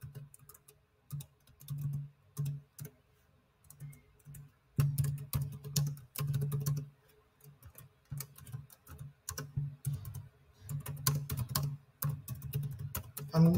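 Keys clatter on a computer keyboard as a new password is typed, short bursts of close, crisp tapping separated by brief pauses, with a low hum underneath throughout.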